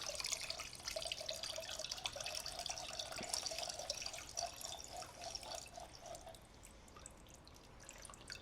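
Gasoline draining slowly through a Mr Funnel fuel filter funnel makes a close, steady trickle with irregular small drips running throughout, with no talking.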